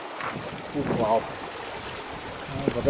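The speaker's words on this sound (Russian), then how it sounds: "Вода бежит во всю." Spring water rushes past a dam in a steady, close, hissing flow, with a brief murmur of voices mixed in partway through.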